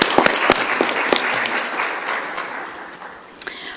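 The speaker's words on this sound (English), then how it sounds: "So let's give another round of applause to a Circle of Friends." An audience at a school board meeting gives a round of applause that is busy at first, then thins and fades. A few scattered last claps sound near the end.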